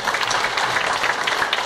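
Audience applause after a Q&A about a reggae lovers rock film, a dense, steady burst of many hands clapping at moderate loudness, brief and continuous.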